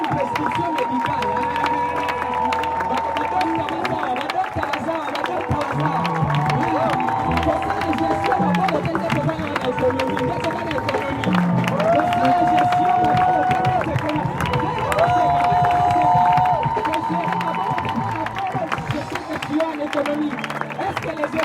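Large worship gathering crowd cheering and acclaiming in a hall, continuous loud roar of voices with clapping and shouts, sustained throughout with music tones woven underneath.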